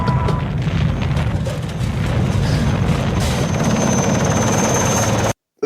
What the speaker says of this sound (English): He hears it. He doesn't even see the helicopter.